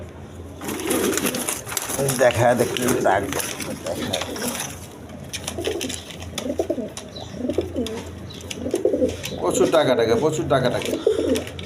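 Big-size quality pigeons, including a Lahori male, coo repeatedly in a rhythmic, close series through the clip, mixed with someone talking over them at a pigeon sale.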